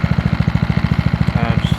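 A Rover Pro Cut 750 self-propelled lawn mower runs close by, its small petrol engine putting out a loud, steady rapid chugging pulse with no talk over it.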